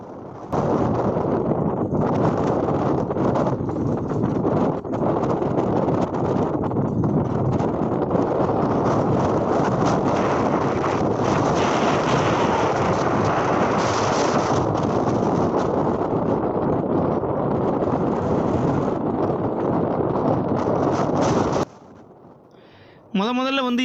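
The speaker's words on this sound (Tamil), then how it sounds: "அந்த காற்றுமே ரொம்ப வேகமாக நம்மளை நோக்கி வருது" Strong, steady wind roars loudly across a microphone on a fishing boat in open sea as waves rise, a continuous blustery rush that drops away abruptly near the end.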